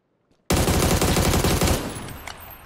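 Sustained automatic gunfire in PUBG Battlegrounds, a loud rapid burst of shots starting abruptly after a brief quiet, lasting over a second before trailing off into echoing decay with a few scattered later pops.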